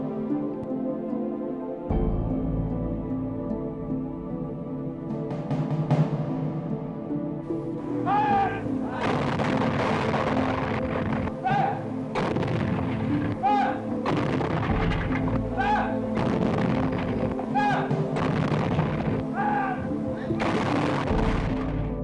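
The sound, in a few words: anti-aircraft gun barrage fire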